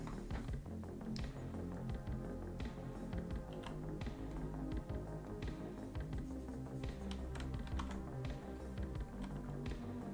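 Keys tapped on a computer keyboard by one hand during 3D modeling work, an uneven series of soft, close clicks over a low steady background hum, with no voices.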